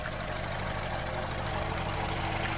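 A Renault Koleos with about 150k on it, in good condition, idles steadily with a continuous engine rumble and no talking.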